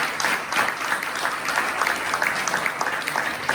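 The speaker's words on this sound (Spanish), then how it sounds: "les vamos a dar un aplauso a ellos" An audience at a talk applauding, a dense, even wash of many hands clapping throughout, moderately close and without pauses.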